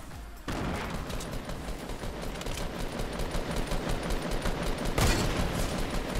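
Rapid automatic gunfire in the Fortnite video game, sustained bursts of shots that run nearly continuously after a brief quiet start, loud and close, with a sharp spike near the end and no talk.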